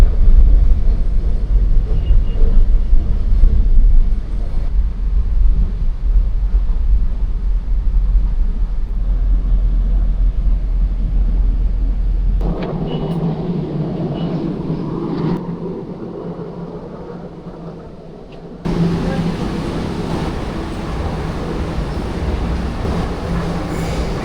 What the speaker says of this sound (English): This train terminates at Roma Street.